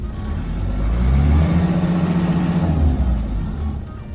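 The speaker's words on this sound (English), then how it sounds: "You have to rev it to lift it up." A forklift engine revs up hard to drive its hydraulic lift, which has low hydraulic pressure. The loud rumbling climbs and holds for a few seconds, then eases back, with no voices over it.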